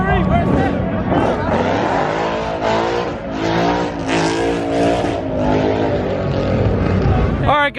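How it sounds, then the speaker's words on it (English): A Smart car does a burnout on a burnout pad at a crowded street car meet, its engine roaring loud and steady with rising, revving tones throughout, while a crowd shouts and talks over it. "That's a smart car doing a burnout"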